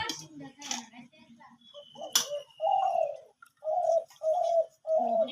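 A dove coos in repeated low, hollow phrases, close by, while people and someone talk and call out over it at the start.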